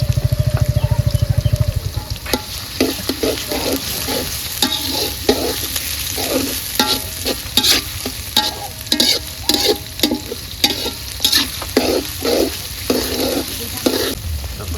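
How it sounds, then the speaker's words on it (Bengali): Sliced onions frying in a pan for beef tehari, with a loud hum for the first two seconds, then steady sizzling broken by repeated rhythmic scrapes and clinks of a spatula stirring, close and continuous. "আমাদের পেঁয়াজ প্রায় ভাজা চলছে"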